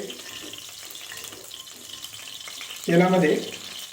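Finely chopped onions drop into hot oil for a veg dum biryani and burst into a sudden loud sizzle near the end, after a quiet stretch of low kitchen noise.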